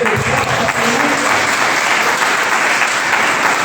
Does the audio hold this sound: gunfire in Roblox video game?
no